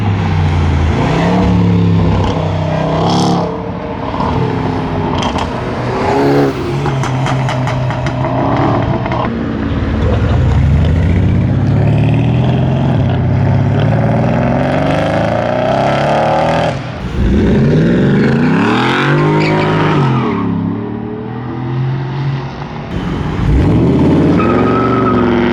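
A Range Rover SVR on aftermarket wheels revving at a rowdy street car meet, a loud, deep engine roar rising and falling through repeated throttle blips amid crowd noise.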